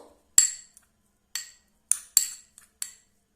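A spoon clinks sharply against a bowl while stirring an orange peel face pack mixed with a little honey, about half a dozen separate bright taps spaced irregularly with silence between them.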